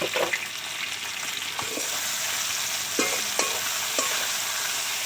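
A spoon stirs chicken curry with salt in a sizzling pan in a village kitchen, oil frying steadily underneath while several scraping strokes land at irregular intervals, close by with no talk.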